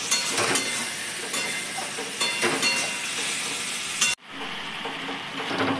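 Chickpea masala for chhole fries in hot oil, giving a dense, close sizzle with stirring scrapes; the sound drops sharply for a moment near the end, then the sizzle resumes more quietly.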